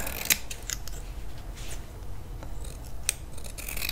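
Scissors snipping through fabric for a handmade peony flower, a handful of sharp, close, quiet cuts spaced irregularly over a soft hiss of room noise.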